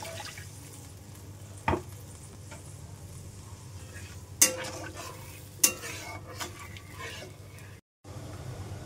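Mango chutney with pumpkin cooking in a pan, low bubbling and stirring punctuated by three sharp spoon-against-pan knocks and a brief drop-out near the end.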